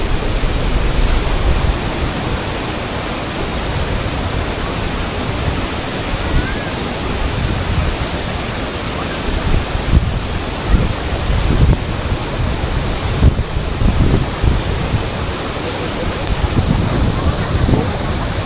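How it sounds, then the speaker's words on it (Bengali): A large waterfall roars at Sela Pass in Arunachal Pradesh, a loud, dense, continuous rush of falling water close by, with gusts of wind buffeting the microphone. "একদিকে এত বড় ওয়াটারফল ফল"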